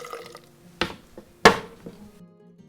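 Kimchi juice poured into a bowl to rinse it, with two sharp splashy sloshes over a quiet kitchen background and a few faint drips and clinks.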